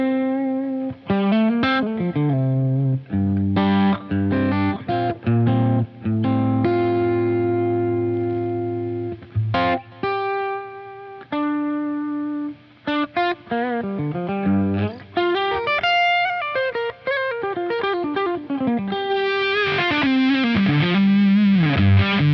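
Electric guitar played through a JHS Crimson fuzz pedal, thick distorted notes and sustained chords with melodic runs, loud and continuous, no voices.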